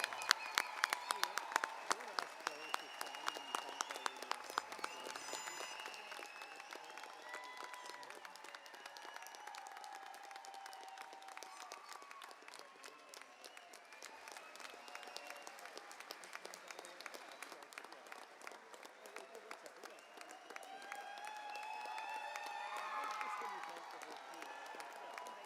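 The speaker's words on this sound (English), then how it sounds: "Let's give them a big round of applause." An audience at a Red River College graduation convocation applauds. The clapping is sustained, dense and distant-sounding, and it continues steadily for the whole stretch with a faint crowd murmur underneath.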